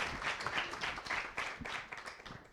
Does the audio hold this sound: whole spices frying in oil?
no